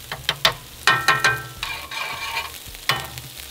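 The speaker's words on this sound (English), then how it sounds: "Oh, listen to that sizzle." Bratwurst sizzles and spits on a hot Kamado Joe grill, crackling steadily with sharp pops and bursts of hiss, close up and with no talking.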